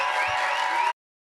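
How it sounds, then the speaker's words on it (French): An audience breaks into applause and cheering for a final contestant in a French thesis-presentation competition, a dense, steady burst of clapping that cuts off abruptly under a second in. "un tonnerre d'applaudissements pour Arthur Garcia"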